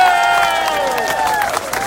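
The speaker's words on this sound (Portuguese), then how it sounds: "Vamos recolher com uma salva de palmas" A large crowd at a political rally cheers and applauds to welcome former Bahia governor Jaques Wagner, with dense clapping under sustained shouting and whistle-like tones that carry across an open space.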